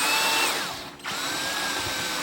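A power drill drives a 35mm screw into wood, giving a close whine that winds down, pauses briefly, then spins back up steadily and alone.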